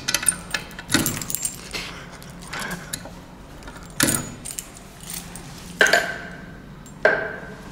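A bunch of keys jangles and clicks in irregular bursts as they are tried one after another in a lock at an empty ski resort in Georgia, close and fairly loud, with several sharp metallic rattles and pauses between.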